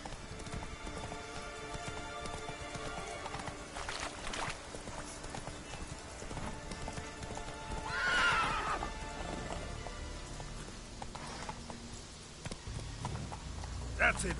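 The horse Roach in The Witcher 3 gallops with steady rhythmic clip-clop hoofbeats and lets out a clear neigh midway, while a voice speaks over the game sound.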